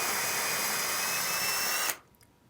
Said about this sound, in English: Now drill out the existing hole and continue through to the other side.